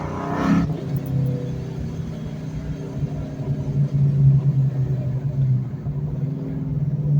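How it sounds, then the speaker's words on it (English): A 2004 Procharged Ford Mustang Mach 1 gets a quick throttle blip: one short sharp rev near the start, then a steady low idle rumble with small surges, close to the car. "That's just a tiny blip of the throttle."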